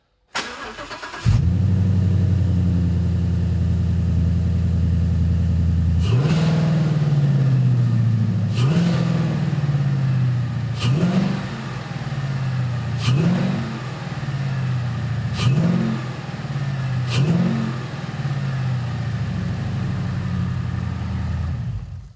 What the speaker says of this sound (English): you can still hear a BBK cold air intake, especially when you just hit the throttle